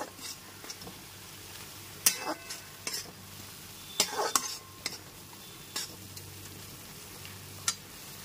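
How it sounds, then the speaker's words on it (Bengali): Onion, ginger and garlic paste sautéing in a pan over medium flame, a soft steady sizzle broken by sharp scraping stirs and utensil clacks at irregular intervals. "পেঁয়াজ, আদা, রসুনের পেস্টটা কষিয়ে নিতে হবে"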